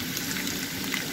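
Chopped chicken breast hits hot vegetable oil with a dense, even hiss of bubbling fat, close and steady for a brief moment.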